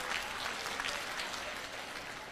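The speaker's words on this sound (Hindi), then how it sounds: "आप लोग ताली क्यों बजा रहे हैं?" Audience applause at a Hindi spiritual katha discourse: dense, steady clapping from a large crowd, continuous for the whole stretch and fairly even in loudness, with no talking over it.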